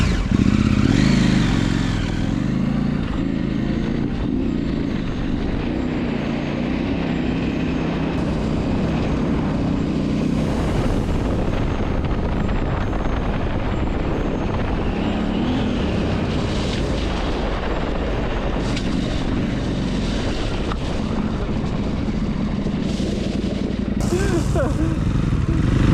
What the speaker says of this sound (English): Well, Riley generously let me try out his 890 Adventure R, my first time